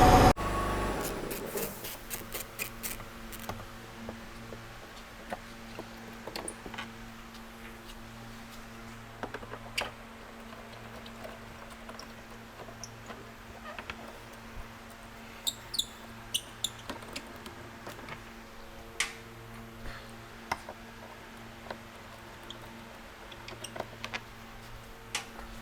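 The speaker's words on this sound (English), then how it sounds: "You're going to use a 13 millimeter to get all these 8 bolts off." A 13 mm ratchet clicks in faint, sparse bursts while eight bolts are loosened on a spare tire carrier during a Rough Country spare tire reinforcement and relocation job, with quiet handling noises between.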